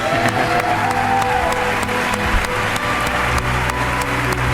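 Recorded applause played from a studio control room on a talk show fills the whole stretch as a steady, loud wash of clapping with a faint crowd murmur beneath.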